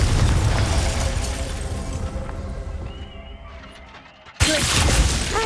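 Confringo blasting spell from Hogwarts Legacy: loud, dense bursts of explosive noise that fade over about four seconds, then a sudden sharp blast returns at full force near the end, with no speech.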